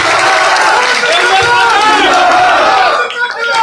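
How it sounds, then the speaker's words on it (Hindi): Crowd at a village political rally in Gannaur cheering and applauding, a loud, close roar of voices and shouts with scattered clapping, briefly dipping before the end. "पर जोरदार तालियों के साथ देवेंद्र कादर जी का हौसला।"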